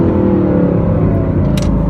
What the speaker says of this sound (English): now you hear the downshift